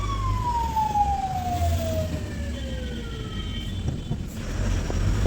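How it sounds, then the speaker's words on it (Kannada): An ambulance siren sounds in stalled highway traffic in Karnataka, heard from inside a truck cab. One long, falling wail sweeps down over a steady, low engine rumble. It is loud and close, and no one speaks. "ಆಂಬುಲೆನ್ಸ್ ಬಂದರು, ಸೈಡ್ ಇಲ್ಲ."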